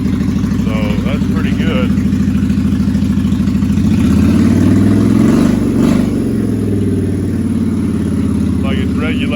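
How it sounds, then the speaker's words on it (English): A custom Honda VT1100 Aero motorcycle engine runs on choke at a steady high idle, loud and close, with a brief rise in the middle and a person speaking over it. "this is just on choke, so it's on high idle right now"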